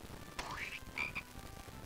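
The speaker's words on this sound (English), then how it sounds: "All he did was put a frog in his mouth." A frog croaks twice in the PS1 Discworld game, two short rising croaks, faint and alone over a soft background hum.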